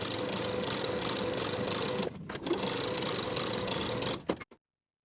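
A sewing machine runs steadily while top stitching a curved pocket opening on kids' pants, a fast continuous whirr with two short pauses near the middle, then stopping abruptly near the end.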